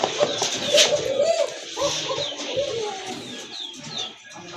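Two female Giribaz pigeons, one a red bar, coo in soft repeated throaty bursts close by, with faint chirps and a little background noise around them.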